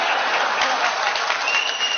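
A crowd claps steadily at a BJP political rally in the Dindigul region, a dense, loud wash of applause that continues throughout.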